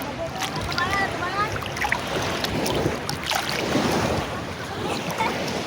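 Waves wash continuously against a shore amid steady wind, with a voice speaking faintly in the background.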